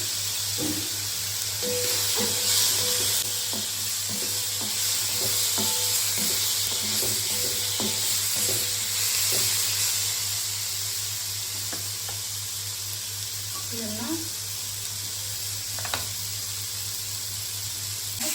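Cumin seeds sizzle in hot fat in a pan while dhaba-style paneer butter masala is being cooked, giving a steady close frying hiss with light stirring clinks and scrapes and no talking.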